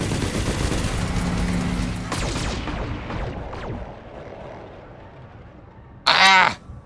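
Mech weapons and an autocannon fire in a video game, a loud, dense barrage of blasts with a sustained tone that fades, then a short, sharp burst of shots near the end.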